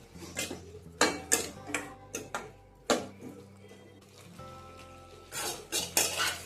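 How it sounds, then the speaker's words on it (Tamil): Okra being sautéed in a pan for puli kulambu: a run of loud, uneven scrapes and knocks of a spoon against metal, with a light sizzle underneath and short pauses between strokes. "நம்ம வதக்கி வச்சுருக்கிற வெண்டைக்காயும் சேர்த்து வதக்கிக்கலாம்"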